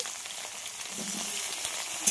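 Potatoes and pointed gourd frying in mustard oil in a pan, a soft continuous sizzle with faint stirring scrapes, steady and fairly quiet with no talk.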